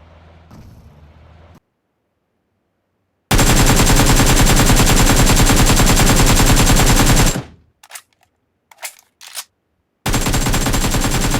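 Gunfire from firearms in the BGMI mobile battle royale game rattles in loud, dense automatic bursts, one long stretch of several seconds, a few short scattered shots, then another sustained burst, with no voices.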